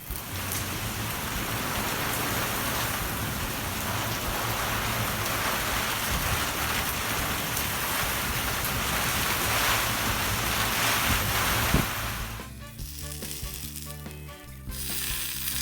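Eggplant slices brushed with oil roast on a covered tawa, giving a loud, steady sizzle throughout, then a brief clatter near the end as the sound turns quieter and patchier.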